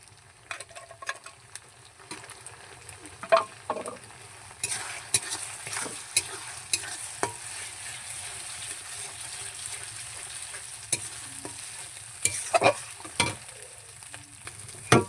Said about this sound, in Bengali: এবার একসাথে মশলাগুলো কষিয়ে নিতে হবে।